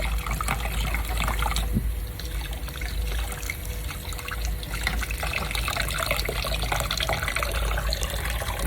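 Water runs steadily from a tap into a sink, a continuous splashing rush with small gurgles throughout.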